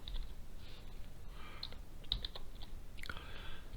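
Computer keyboard being typed on, a few faint, soft clicks in short bursts, close but quiet against a low background hiss.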